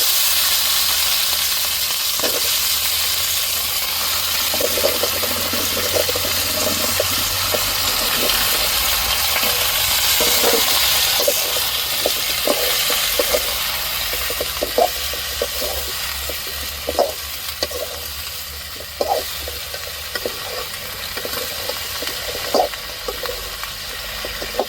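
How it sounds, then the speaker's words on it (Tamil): Drumstick pieces sizzle and crackle steadily in hot oil with curry leaves during tempering for a South Indian aviyal, with scattered sharp pops and spits rising over a continuous hiss throughout. "இப்போ முருங்கைக்காவை சேர்த்துக்குவோம் தாளிப்புலையே"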